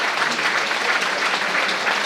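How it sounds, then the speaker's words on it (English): Steady, dense applause from the football crowd at Twerton Park during a Bath City v Welling United match, a broad wash of clapping sustained throughout without breaks. "Good round of applause from the Twerton Park crowd."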